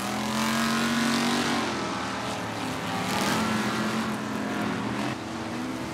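Off-road race trucks roar around a muddy championship track, several engines droning and revving together in a steady, loud, continuous wash of motor noise with no talk.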